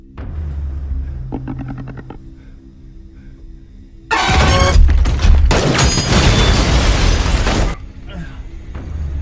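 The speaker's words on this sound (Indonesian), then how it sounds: "Ia pun mengambil kesempatan ini untuk menyingkirkan Reaper dengan cara menembak tabung tersebut tepat saat si Reaper berlari ke arahnya." An oxygen tank is shot and explodes in a film scene: a loud, sudden boom followed by a roaring, crackling blast of a few seconds, preceded by quieter rumbling and voices.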